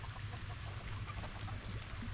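Farm chickens cluck and murmur in a coop amid a noisy outdoor background, with faint, scattered calls over a continuous low hum.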